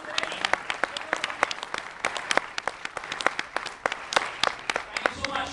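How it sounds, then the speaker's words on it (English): Audience applause in a room, with loose, uneven hand claps from a modest group forming a lively patter, sharp individual claps popping out over the mix, and voices murmuring underneath. "Big round of applause."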